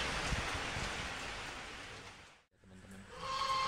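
Night rain falls during a Malaysian flood, a dense steady hiss of drops that briefly drops away before returning with faint tones behind it.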